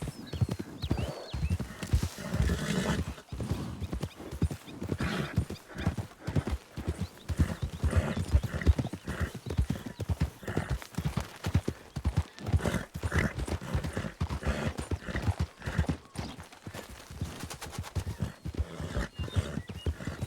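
Video game horse hooves of a Turkmen horse clip-clop in a steady, continuous rhythm, close and fairly loud, with occasional whinnies and faint voices in the background.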